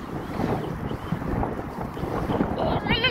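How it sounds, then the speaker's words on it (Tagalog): Strong, dusty gusts buffet the microphone with a steady roar and low rumble, while a person speaks briefly amid the wind. "Ala, yung hangin."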